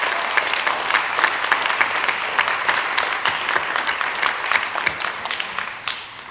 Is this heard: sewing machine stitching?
no